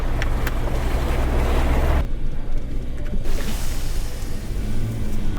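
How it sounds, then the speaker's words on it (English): A 4x4 truck engine drones as it pushes through a water crossing in the Victorian High Country, with a rushing, splashing wash and a brief muffled stretch before the churning noise returns. "here's your first water crossing"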